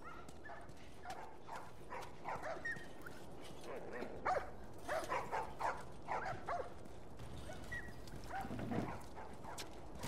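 Small puppy yips and whimpers repeating over a steady background hiss, faint and somewhat distant, in the video game The Last of Us.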